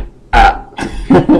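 A voice imitates a high-pitched burp with several loud, close croaking bursts in quick succession, each short and throaty.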